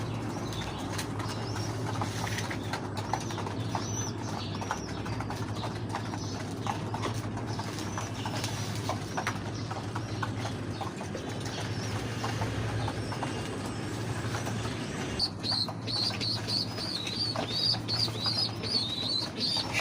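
Pigeons in a coop on a cold winter day, with steady fluttering, shuffling and soft bird calls over a constant low background, no voices.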